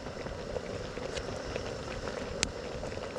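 A pot of chili boils on a camp stove at an overnight mountain hammock camp, a close, steady bubbling and crackling roar with small pops sustained throughout.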